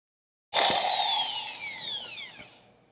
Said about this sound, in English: So I'll go ahead and drill.